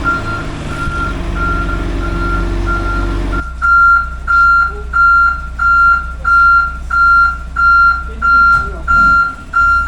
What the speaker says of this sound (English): you can see now the big truck has come to deliver the fuel